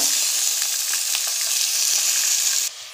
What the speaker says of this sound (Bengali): রসুন কুচি একদম ফ্লেমটা দেখতে পাচ্ছ খুব লো ফ্লেমে রেখেছি আমি, মিডিয়াম টু লো ফ্লেমে। এর মধ্যে আমি চিকেনগুলো দিয়ে দেবো।